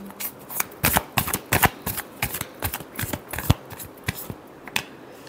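Tarot cards being shuffled by hand in a quick, uneven series of crisp riffling bursts and snaps. They are heard close and loud with no talking.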